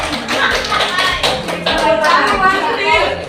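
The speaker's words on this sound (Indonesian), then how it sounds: "tepuk tangan dulu." A group of school participants claps at a counseling outreach session, loud close hand claps in an uneven rhythm, with voices talking over them.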